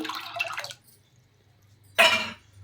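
Tamarind juice splashes into a pan of bitter gourd being cooked with salt and turmeric. A short, close liquid pour comes right after a brief earlier trickle, with quiet between them.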